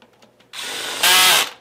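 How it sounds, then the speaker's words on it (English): Cordless power drill driving screws into a wooden hi-end audio stereo stack rack, two loud close whirring bursts, the second one higher and more strained, with no talking. "Should always use a cordless drill"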